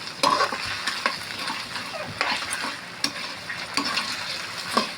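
Food is sautéed in a pan, sizzling steadily while a utensil stirs and scrapes it in repeated strokes, heard close with no voices.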